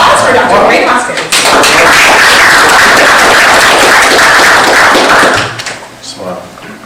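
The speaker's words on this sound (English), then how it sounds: "So please give a round of applause for Dr. Dwayne Hoskins." Loud, close applause from an audience at a business networking meeting, a dense burst of clapping lasting several seconds before fading, with voices mixed in.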